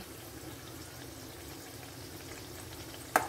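Puris deep-frying two or three at a time in hot oil, a faint, steady bubbling sizzle with a single sharp click near the end and no voices.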